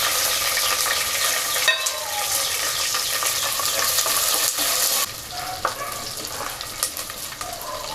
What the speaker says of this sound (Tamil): இருபது பல்லு பூண்டு சேர்த்து நல்லா வதக்கிக்கலாம்.